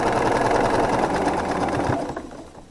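A sewing machine runs steadily, stitching the seams of a quilt star block made from half-square triangles, then winds down near the end; close and continuous, without talk.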